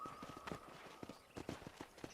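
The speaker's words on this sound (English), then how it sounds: "let's see if you can still ride a horse." Rhythmic clip-clop of horse hooves striking the ground at a steady trot in the video game Red Dead Redemption, fairly close, with a faint steady tone and background ambience underneath.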